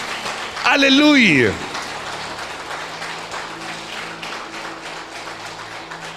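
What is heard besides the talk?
congregation applause in church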